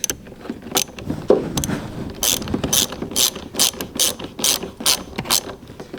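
A hand ratchet tightens a car battery's hold-down strap during a battery replacement, with a series of quick, close clicking bursts at an irregular rhythm and no talking.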